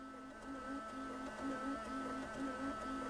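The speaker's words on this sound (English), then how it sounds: "it's actually trying to eject all the CDs at the minute" A car CD changer mechanism whirs and clicks with a repeating pulsing hum, steady and moderately close, its motor straining in cycles as it fails to eject stuck CDs.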